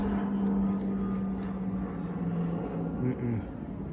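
A propeller airplane drones overhead in a steady, moderately loud hum that fades slightly as it passes.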